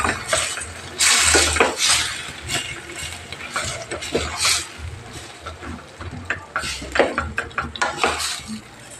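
Fenugreek powder and tamarind are mixed by hand in a metal vessel for tomato pickle, giving repeated clinking, scraping and stirring sounds in uneven bursts, close and fairly loud.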